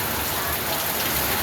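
Heavy, continuous rain pours down during Typhoon Kristine, a dense steady hiss of drops on surfaces with no break and no talking.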